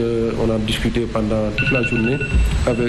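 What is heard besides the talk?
telephone ringing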